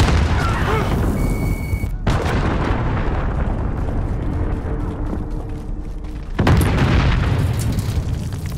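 Heavy booming blasts from an enemy cruise missile strike in a military shooter game, loud and sustained with a dense rumbling roar, a sharp break near two seconds and a fresh powerful burst toward the end.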